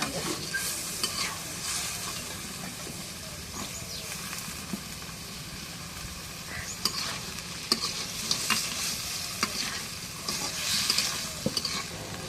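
Beef and potatoes stir-fried in a pan, a steady close sizzle and frying hiss with repeated scraping and stirring strokes throughout, no talk.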